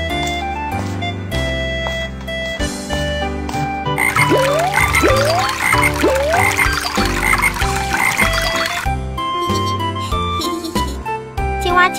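A cartoon frog croaks in a few short rising calls over a busy, loud music score, set in a children's animated story about animals wanting to learn new skills.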